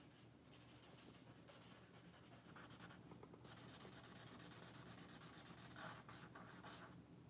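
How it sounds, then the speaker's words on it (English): Pencil strokes scratch and rub across paper while sketching hair at a live drawing session, a steady close-up scratching texture with brief lighter pauses, running continuously with no voices. "I'm just having fun just drawing hair"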